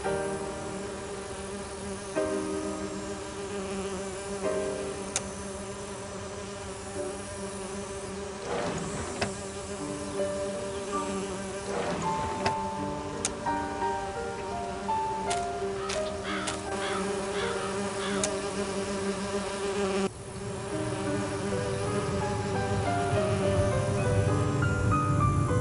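Bees buzz steadily in an Agatha Christie mystery game, a dense, continuous droning hum that persists throughout, with a few faint clicks and a slightly louder swell toward the end, and no talking.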